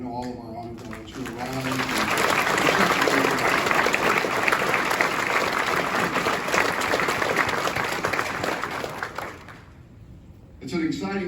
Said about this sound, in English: would you join me in a round of applause and thank you for our honor guard?